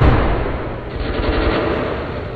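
Sustained gunfire in Metro Last Light Redux, a dense, loud, continuous burst of shots, up close, with no speech over it.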